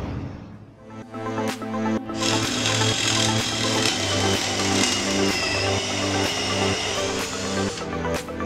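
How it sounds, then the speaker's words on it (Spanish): Work Pro 20V cordless drill driver running while assembling a melamine and wood side table, a continuous close motor whine with rising and falling pitch, broken by a few sharp clicks. "Haciendo este proyecto has visto en acción mi taladro de destornillador inalámbrico de 20 voltios de Work Pro"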